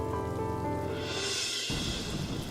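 Rain falls during the monsoon season, a steady dense patter heard throughout under a faint tonal background.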